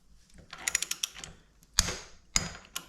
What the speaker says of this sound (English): So you're tightening that to 24 Newton meters,